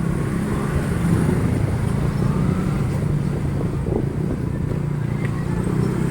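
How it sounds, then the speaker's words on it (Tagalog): Heavy road traffic with many motorcycles along a Manila boulevard, a loud continuous drone of engines rolling past up close without letup. "Ayan o, napapansin nyo, napakarami ng motor na dumadaan."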